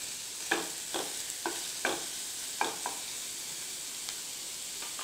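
Onions sautéing in coconut oil over a low flame, a steady soft sizzle broken by a few short scraping stirs spaced about half a second apart, close and alone without voices.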